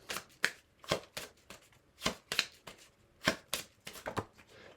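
Tarot de Marseille cards shuffled by hand, a close series of crisp riffling swishes in an irregular rhythm, about a dozen quick strokes with short gaps, no talking.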